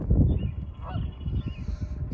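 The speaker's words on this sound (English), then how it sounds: "That's no ordinary duck. That is a swan." A swan honks repeatedly at close range, loud nasal calls in an uneven series with no talking over them.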